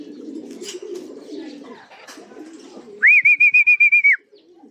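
A young pigeon coos close and loud in a short, rapidly pulsed burst of about eight notes near the end, with quieter rustling and faint bird sounds beforehand.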